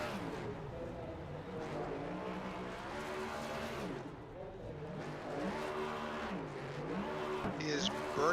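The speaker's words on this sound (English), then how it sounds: "he is burning down the start-finish line" Race car in a NASCAR racing video game doing a burnout and donuts on the start-finish line at WorldWide Technology Raceway: a steady, loud engine drone with wavering revs and tire squeal, under continuous commentary.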